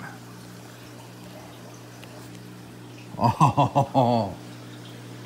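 A new powerhead pump starting up in a fish tank, with a low steady hum underneath and a short burst of splashing, gurgling water pulses lasting about a second, while a man exclaims briefly.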